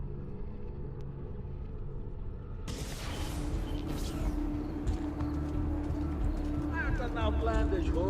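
Horse hooves clip-clop in the video game Assassin's Creed 2, a steady rhythmic clatter over a low rumble that starts partway through, with voices of characters talking over it.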